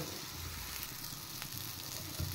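Boiled urad dal hits a hot pan of oil for a fish dal, giving a steady, fairly quiet sizzle that hisses evenly throughout with a few soft stirring bumps near the end.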